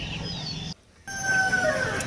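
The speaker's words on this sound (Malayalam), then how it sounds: "ഇവിടെ ഇതിന് പറയുന്നത് കടക്കനാട് ചിക്കൻ" Kadaknath black chickens at a pet shop in Coimbatore, giving clucking and crowing calls close by, briefly cut by a short silent gap before the fowl noise resumes louder.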